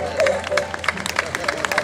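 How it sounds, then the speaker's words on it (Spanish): An audience claps and cheers at a live show by the act Misti K. The dense, crackling applause runs throughout, mixed with crowd noise and a few voices. "Gracias por los aplausos."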